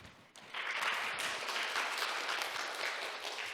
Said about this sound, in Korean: 박수까지 감사합니다.